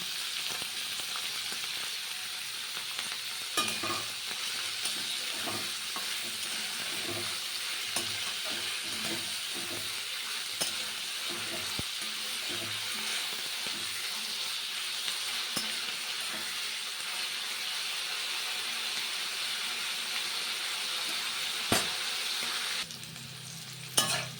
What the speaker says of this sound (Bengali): রান্না হচ্ছে পেঁয়াজ তেলি দিয়ে আলু দিয়ে ভাজা